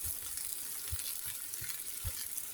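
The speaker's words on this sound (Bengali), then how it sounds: "এটা এখন ভাজা হয়ে গেছে, এখন আমি সবগুলি উঠিয়ে নিব।" Eggplant frying in oil gives a soft, faint continuous sizzle with light crackles and a few low soft knocks from handling the pan.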